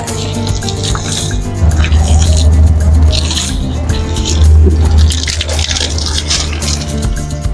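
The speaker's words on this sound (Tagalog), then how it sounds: "Kailangan lang natin to bigyan ng tubig." Water pours and splashes onto a potted plant, with dripping and wet squishing against a steady low hum, close and fairly loud throughout.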